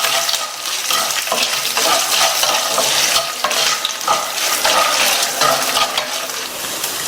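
Five dried red chillies and seven or eight garlic cloves fry in a pan for thuvaiyal chutney, a loud continuous sizzle with constant stirring and scraping, close and alone without speech.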